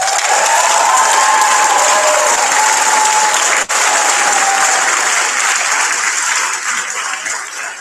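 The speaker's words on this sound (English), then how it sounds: "I'd also like a very big applause for Karan," Big audience applause at the closing of an international pharmacy students' congress in Hyderabad, loud and sustained in a large hall, with faint whistles or cheers near the start and a brief dip midway, tapering slightly toward the end.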